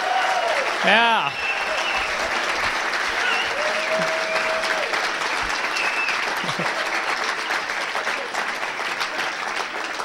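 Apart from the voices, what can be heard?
audience applause for comedian Sid Koop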